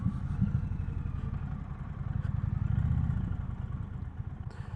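Indian Challenger motorcycle pulling in and coming to a stop, a steady low engine rumble with some clatter, close and continuous, the idle settling toward the end with no talk.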